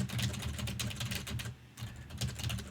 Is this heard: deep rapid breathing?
no